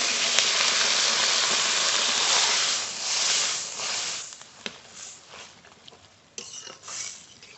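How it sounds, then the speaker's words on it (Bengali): Water poured into a pan of spice-fried onion, eggplant and potato on a village stove, a loud steady hiss that fades into softer bubbling sizzle with occasional utensil knocks. "মশলার সঙ্গে পেঁয়াজ বেগুন আলু ভালো করে ভেজে নিয়েছি এবার জল দিয়ে দেবো জল"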